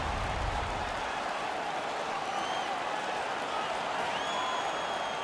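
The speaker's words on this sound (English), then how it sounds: "The crowd is now back in it." A hockey arena crowd in the video game NHL 16 roars and applauds in a sustained, dense wash of cheering noise that fills the whole stretch.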